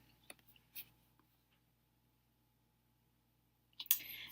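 A few sharp computer mouse clicks on a WordPress dashboard, close and distinct, spaced apart with a quiet pause before a final louder burst of clicking.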